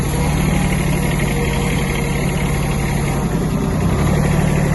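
A Kubota A-15 mini tractor engine runs steadily nearby, a constant, loud mechanical drone with no pauses or changes in pitch.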